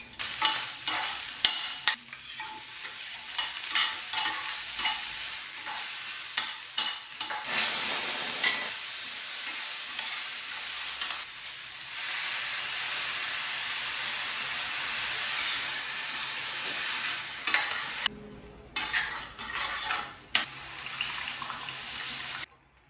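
Diced onion and green chilies fry in a tablespoon of oil in a pan, giving a loud, steady sizzle with frequent clattering stirs and scrapes that briefly cut out near the end.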